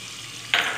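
Chicken and ketchup get stirred in a hot frying pan. After a near-silent start, a short, close sizzle and scraping stir bursts in suddenly.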